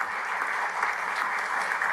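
An audience at a political candidates' debate claps warmly for the moderators, a dense, even wash of applause with no voices over it.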